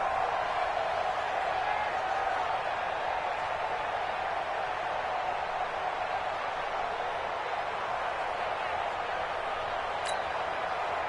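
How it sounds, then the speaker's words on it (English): A packed football stadium crowd at the AFC Championship game roars in a steady, dense wash of cheering ahead of a big third down, sustained and loud throughout with no break. "The crowd getting into it as we come up on a big third down."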